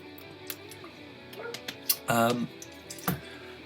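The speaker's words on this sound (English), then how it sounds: "That's me dog. Probably barking at some fucking birds." A dog lets out a short burst of barking in the background, with a person talking and a computer keyboard clicking nearby.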